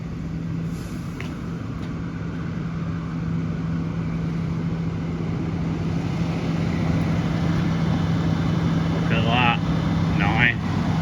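A big Fendt 942 tractor engine drones steadily on a farm, growing slightly louder as it approaches over several seconds, with brief bursts of speech near the end.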